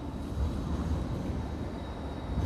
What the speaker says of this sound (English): Here comes the tram. It's nice and noisy.